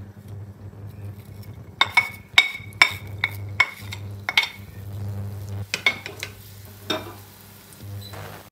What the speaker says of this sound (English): we might have gotten the onions slightly overburned